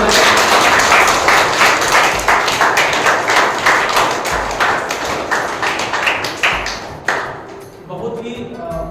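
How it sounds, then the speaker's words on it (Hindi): Loud applause at a school felicitation ceremony for a class 1 to 5 sports and culture competition, dense clapping from a large group of children and staff that thins out toward the end, with voices mixed in. "जोरदार तालियां"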